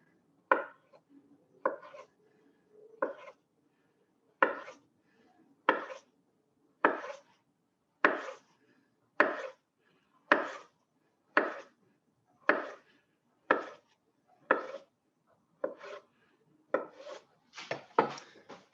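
A knife slices vegetables on the bias on a cutting board, a steady series of about twenty crisp, evenly spaced chops heard close up with no voices.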